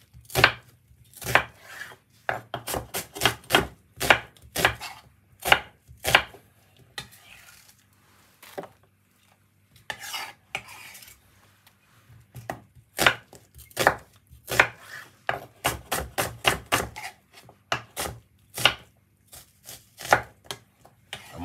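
A knife chops purple onion on a board in fast bursts of crisp, close thuds, pausing briefly between runs before resuming in quick rhythmic strokes.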